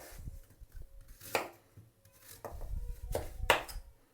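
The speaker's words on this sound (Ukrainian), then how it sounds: "Нарізаємо яблуко" Several sharp knife chops through an apple on a board, spaced irregularly with quiet gaps between, close and moderately loud.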